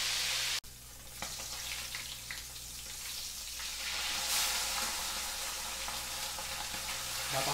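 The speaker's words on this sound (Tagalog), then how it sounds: "Ayan naman, iprito na natin to." Marinated milkfish (daing na bangus) frying in a pan, giving a steady broadband sizzle that builds gradually and stays close and continuous after a brief sharp knock at the start.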